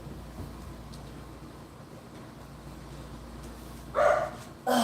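A dog barks twice near the end, loud and close, over a steady background hum.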